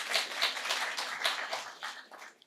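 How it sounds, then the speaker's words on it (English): Short burst of audience clapping at an evening electrification event in the National Film and Sound Archive, a few distinct near claps over a softer crowd patter, thinning out after about two seconds. "a big round of applause"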